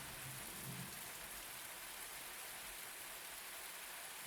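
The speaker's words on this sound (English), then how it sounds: "acid rain's coming down" Steady acid rain pours down in the video game Universe For Sale, set in a colony in Jupiter's clouds, a soft continuous hiss at low level with no voices.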